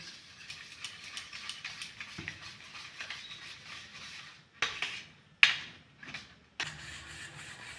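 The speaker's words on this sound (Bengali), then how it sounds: "ডিমটা ভালো করে ফাটিয়ে নেবো" Eggs are beaten with salt and turmeric in a bowl, making quick, light, rhythmic clicks for several seconds. A few louder scraping bursts follow, with no talking.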